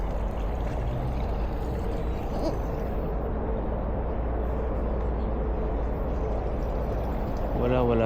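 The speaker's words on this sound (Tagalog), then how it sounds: "Ito ng tunog ng tubig." Steady rushing water pours and flows close by outdoors in New Zealand, a continuous loud wash with no breaks.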